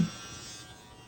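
An electric hair trimmer runs with a high, steady buzzing whirr, quiet and close, briefly and alone.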